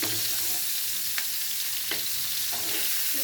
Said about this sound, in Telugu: ఇవి ఎందుకంటే ఆయిల్లో వేగుతాయి కదండి